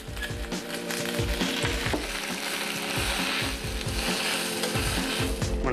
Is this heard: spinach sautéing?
yes